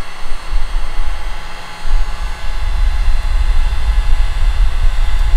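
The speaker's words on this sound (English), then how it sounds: "I used a heat gun and just a little bit of heat" A heat gun blows hot air onto 3D-printed air-assist parts for a Monport K40 CO2 laser, producing a loud, steady rushing roar with a low rumble throughout.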